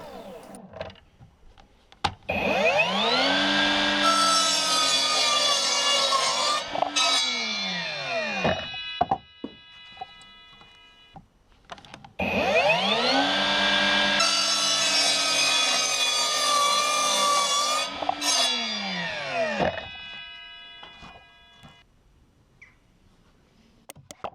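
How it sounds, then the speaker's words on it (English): An Evolution miter saw cuts twice through old salvaged pallet wood with nails, each cut a loud whining spin-up and long grinding bite, then a winding-down ring. "That's why I'm using this Evolution miter saw, because it will cut through them with no problem with the blade that is fitted."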